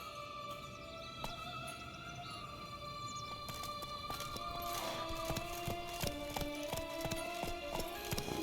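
Roach the horse from The Witcher 3 trots along, with rhythmic hoof clip-clops growing denser and louder partway through over a faint background of music tones.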